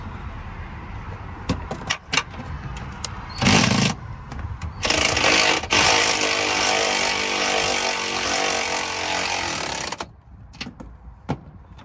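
A power tool pre-tightens the nuts on a shock absorber of a 2008 Honda Pilot, with sustained loud whirring bursts of several seconds among clicks and clanks of metal hand tools, and no talk.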